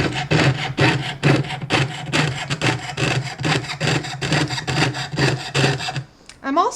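A jeweler's saw cuts through metal at a bench pin in steady, even back-and-forth strokes, each rasping pass loud and close, before the sawing stops just ahead of the end.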